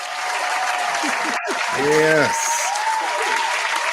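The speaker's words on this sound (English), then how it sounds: "y'all give a nice round of applause for Miss Shannon Battle" Audience applause for a guest introduced at a talk on marital problems, steady clapping throughout with a voice speaking over it near the start.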